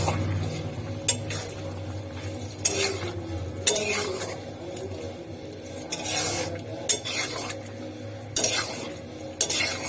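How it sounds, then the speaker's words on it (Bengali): Chilli chicken stirred in a pan as cornflour mixture goes in, a spoon scraping and clinking against the metal in irregular strokes with occasional sharper knocks, close and moderately loud over a low steady hum. "এটা একটু ভালো করে ঘেটে নিতে হবে, জাস্ট নাড়াচাড়া করে নিতে হবে"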